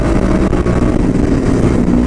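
A loud, steady motorcycle engine drones continuously with a deep rumble and slight throttle variation, no voices present.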